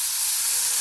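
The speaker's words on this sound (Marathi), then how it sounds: "त्याच कढईमध्ये गवारीच्या शेंगा भाजून घ्यायच्या. शेंगा भाजण्यासाठी थोडं तेल टाकायचं." Cluster beans sizzle in a little oil in a kadhai, giving a steady, bright hiss that goes on without a break and without voices.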